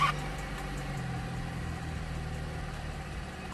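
A 2018 B9 Audi S4 engine dropping back to a steady idle, a low, even hum that stays constant and fairly quiet after a brief louder start, with no voices.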